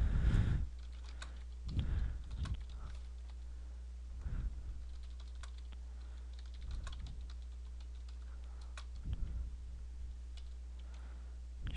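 Steady typing on a computer keyboard, quiet close clicks in short bursts with pauses between them, over a low steady hum.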